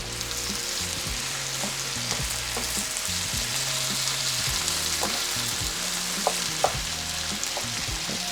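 Potatoes sizzle steadily in a big pan, with salt and olive oil added, under a continuous loud hiss, while the pan is stirred in scraping strokes and quick knocks throughout.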